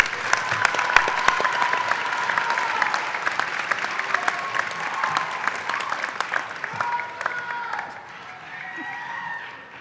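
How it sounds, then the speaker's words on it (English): A university commencement audience gives a long round of applause for baccalaureate candidates, dense steady clapping with scattered cheers, easing off toward the end. "And one final applause for the baccalaureate candidates."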